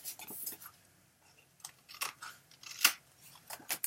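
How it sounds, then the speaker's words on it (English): Scissors snip the corners off a paper mini album, a few short, crisp cuts spaced unevenly and close by, quiet and alone. "We're just going to go ahead and miter those corners. Basically cut it off at the corner."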